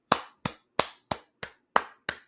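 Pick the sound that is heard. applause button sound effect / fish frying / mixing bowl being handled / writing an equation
applause button sound effect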